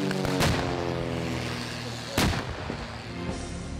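Artillery fire and explosions boom at a military reenactment show with tanks and anti-aircraft guns. Two heavy blasts crack out, roughly two seconds apart, over a steady rumbling background.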